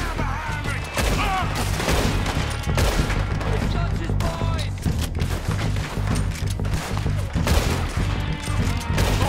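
Gunfire in Red Dead Redemption 2, a chaotic shootout of overlapping shots and booms, loud and continuous, mixed with shouting voices and game music.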